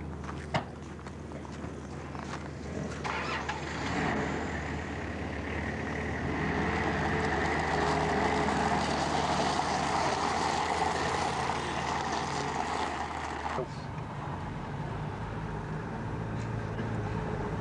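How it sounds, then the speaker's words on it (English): A left-hand-drive Toyota 4Runner driving along a main road in Cambodia, its engine and road rumble steady and close throughout, with a rougher shift in tone near the end. "As you can see, we've got this nice new, sort of new 4Runner."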